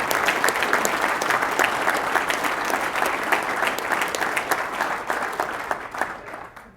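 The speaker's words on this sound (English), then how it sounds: "Barry, please stand up and get a round of applause." An audience at a January 2013 all-hands meeting claps in sustained applause, dense and steady before thinning out and fading at the end.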